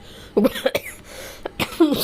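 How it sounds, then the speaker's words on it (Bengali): A few short, harsh coughs in quick succession, close and fairly loud, separated by brief pauses. "কাশতেছে শুধু"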